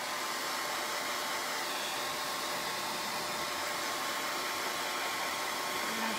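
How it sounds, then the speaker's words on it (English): Hair dryer blowing on a craft project, a continuous loud, even whooshing roar held close for the whole stretch without talk. "If you're just joining and I'm blow drying, that's kind of boring"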